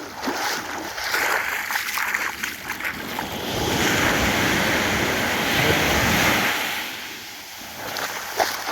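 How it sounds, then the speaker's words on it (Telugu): High waves surge onto Sur beach in Oman in a broad, roaring wash that builds to a long crash midway and then eases back, with gusty wind buffeting the microphone throughout. "అలలు ఎంత పైకి ఎగబడుతున్నాయి,"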